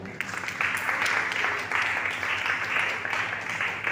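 Church congregation at a Sunday service applauding, a continuous wash of many hands clapping at a fairly even level, with some faint voices mixed in underneath.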